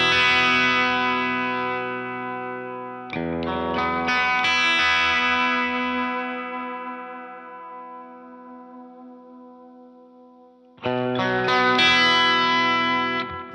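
Electric guitar through a Tonal Recall delay pedal on its second preset, with compressor engaged: two ringing chords decay slowly with repeating echoes trailing behind, a third strum entering near the end.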